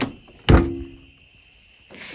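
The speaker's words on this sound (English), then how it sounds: "This door." A vehicle door shuts with one solid, close thunk. A low steady hum follows, then a faint rustle near the end, with no talk.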